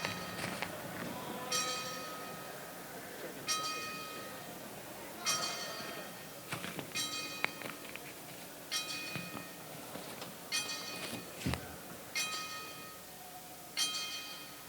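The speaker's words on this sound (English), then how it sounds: "We're going to do a 10-second bell count." A bell at a mixed martial arts event tolls ten times for a moment of silence, with evenly spaced ringing strikes, each decaying under a quiet, murmuring crowd.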